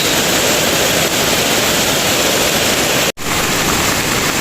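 Heavy rain pours while a mountain stream rushes nearby, a loud, dense and constant roar of water that fills the whole scene without a break.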